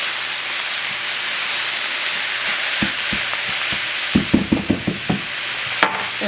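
Cauliflower rice with shrimp fries in butter in a pan, giving a steady close sizzle broken by a run of sharp spoon or spatula clacks and scrapes against the pan as it is stirred, with no voices.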